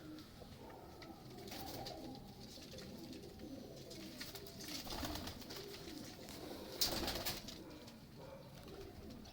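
A pigeon, a Salara breed, coos repeatedly in low, throaty murmurs over a constant hiss of outdoor ambience.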